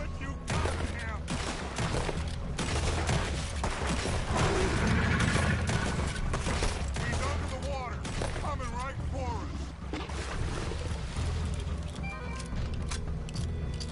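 Gunfire from the Red Dead Redemption video game rings out in a dense fusillade of rapid shots, mixed with clattering effects and overlapping voices talking throughout.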